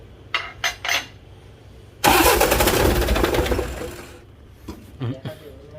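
A Mitsubishi Canter 100 hp dump truck engine cranks and catches, a loud burst of starter and engine roar that holds for about two seconds before fading, with people talking briefly before and after.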